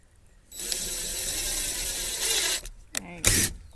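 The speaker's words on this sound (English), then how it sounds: "Drive a screw in a bit." A power drill drives a screw into wood while building windows for a chicken coop, a steady close whirring grind lasting about two seconds, then short bursts as the drill stops and restarts.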